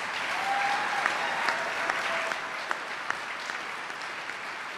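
Audience applause for transit frontline workers at a government funding announcement, a steady sustained clapping crowd with a few sharper individual claps standing out.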